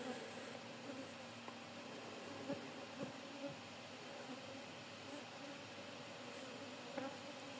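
Honeybees from a populous hive fly around it in a steady, moderately quiet buzzing drone, with a few sharper taps and knocks over the hum.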